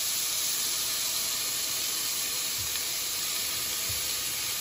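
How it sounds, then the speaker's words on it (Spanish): Onion fries in hot oil in a deep pot for a Honduran pork heart and liver stew, giving a loud, dense, steady sizzling hiss with a couple of faint low bumps, no talk. "Ahora vamos a sofreír la cebolla"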